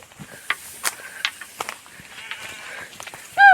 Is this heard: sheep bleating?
yes